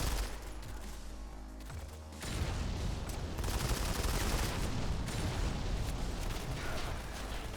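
In a PC shooter game, dense rapid gunfire and grenade explosions merge into a loud, continuous battle roar that swells and intensifies partway through.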